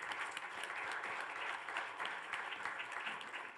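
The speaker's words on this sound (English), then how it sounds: "If we can have a round of applause for all the people that helped set this up." A crowd at a committee meeting claps steadily throughout, a dense, even patter of applause heard from a moderate distance.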